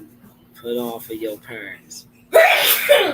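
A single sharp sneeze bursts out loud and close after a stretch of casual speech, with a second smaller burst right behind it.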